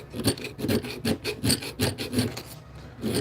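Metal is worked with a hand file around a heart-shaped cutout in a series of close, rasping push strokes at an even rhythm, each one a gritty scrape with short pauses between.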